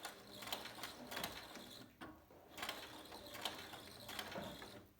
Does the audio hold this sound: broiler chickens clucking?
no